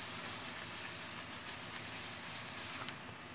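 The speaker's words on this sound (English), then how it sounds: "I'll take the same microfiber and I'm just going to scrub that spot" A microfiber cloth scrubs a tar spot on the paint of a 2013 Subaru XV Crosstrek, making a steady close, hissy rubbing with fast back-and-forth strokes that stop near the end.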